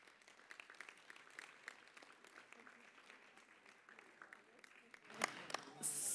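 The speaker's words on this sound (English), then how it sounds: "I think we give them applause." An audience at an OSCE Parliamentary Assembly committee session in Monaco gives the interpreters a round of applause. The clapping is faint and scattered at first and then grows louder near the end.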